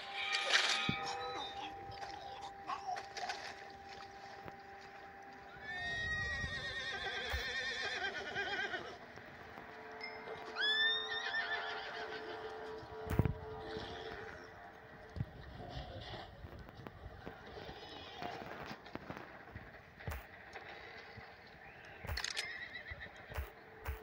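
In the Red Dead Redemption 2 video game, a horse whinnies several times between stretches of hooves, with shuffling movement, over a faint outdoor background and no talk.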